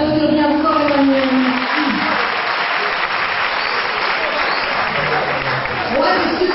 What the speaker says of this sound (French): on peut l'applaudir bien fort, Emmanuel.